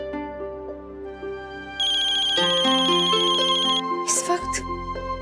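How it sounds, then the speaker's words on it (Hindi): A phone ringtone plays a bright melodic electronic tune in loud, clear repeating tones, stopping with a short burst of noise at the end. "लीजिए, आपकी बेस्ट फ्रेंड का फोन भी आ गया।"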